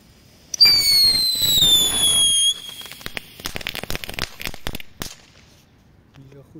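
Category 1 consumer fireworks from ALDI going off nearby: a rising whistling screech for about two seconds, then a rapid burst of sharp crackles and pops, fading to quiet.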